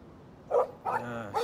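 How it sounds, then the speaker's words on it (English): A dog barks in the video game Life Is Strange, a few short separate yelps and barks behind an RV, fairly close and set against a quiet background. "Stop that! Stop! No barking."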